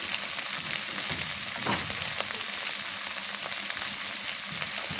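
Garlic paste with salt fries in a pan, giving a steady, close sizzle that holds at an even level throughout, with faint stirring scrapes and no talking.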